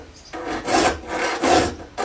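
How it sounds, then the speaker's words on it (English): A triangular file rasps across saw teeth clamped in a vise, with steady back-and-forth strokes in an even rhythm, close and fairly quiet with no talk. "grab our triangular file and sharpen every single tooth one by one"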